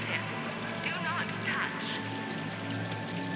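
Water from a decorative fountain in Mass Effect 3 pours in a low, steady trickle, faint and continuous beneath spoken game dialogue.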